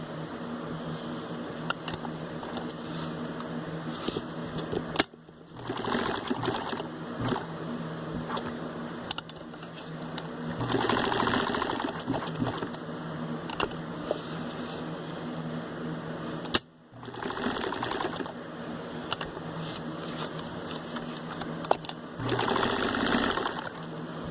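A sewing machine stitching a fabric face mask, with a close mechanical whirr and rapid needle rhythm. It runs in several sustained bursts broken by brief stops, with no speech.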